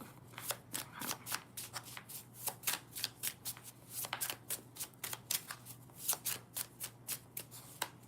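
Oracle cards shuffled by hand in a quiet room, with rapid papery riffles and slaps in a steady rhythm of bursts over a low constant hum; nobody speaks.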